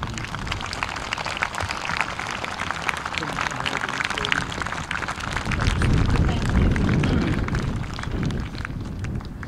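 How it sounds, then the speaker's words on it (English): A high school audience at a prom safety simulation with the fire department applauds the firefighters, a continuous crowd clapping that swells toward the end, with some rumbling crowd noise underneath. "I would really appreciate it if you would applaud them with me"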